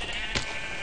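A single sheep bleats once in a blocky Minecraft-style survival game, a short nasal call set against a quiet, steady background.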